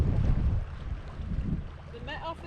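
Westerly wind buffeting the microphone on Whitehaven Pier in Cumbria beside the sea, a steady low rumble with gusts that ease midway, while a voice speaks faintly near the end.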